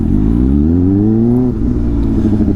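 A Shelby car engine revs up with a deep, loud, rising rumble that climbs in pitch and then drops back to a steady idle-like drone, close by with no talk.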